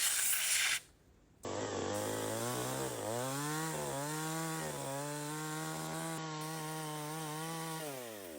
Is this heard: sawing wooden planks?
yes